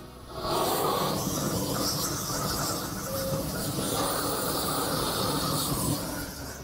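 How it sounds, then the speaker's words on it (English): A gas torch flame roars steadily and loudly over bacon on a grill at a neighbourhood barbecue, a continuous broadband hiss that starts abruptly and holds for several seconds. "So we're just going to take a little bit of flame and give it a little bit of BTUs"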